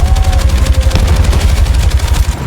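Loud sustained machine gun fire in a Battlefield 6 game trailer, a rapid pounding stream of shots with heavy low rumble for a couple of seconds.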